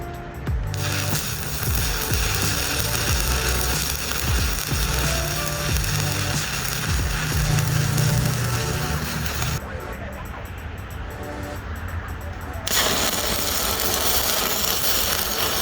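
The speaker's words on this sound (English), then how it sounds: "I'm using the stick welder just to weld it back together" A stick welder welds metal back together with a steady, dense crackling sizzle that holds throughout, briefly shifting in tone midway before resuming.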